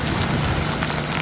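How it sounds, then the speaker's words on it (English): Heavy rain from Tropical Storm Florence pours down steadily in a dense, continuous broadband wash that holds level throughout, with no voices. "the rain has just been coming down throughout the day"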